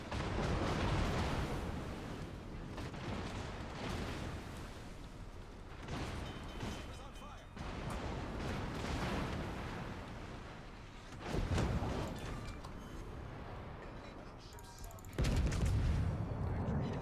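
Heavy naval guns in World of Warships, trading fire with the battleship Bismarck, boom repeatedly amid a dense, rumbling battle din, with a couple of stronger blasts standing out near the end and some talk mixed in.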